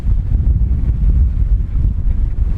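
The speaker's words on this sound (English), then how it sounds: "It is windy here." Strong wind buffets a sailboat at sea near Bonaire, loud, low and rumbling, with constant gusting roar close to the microphone and no talk.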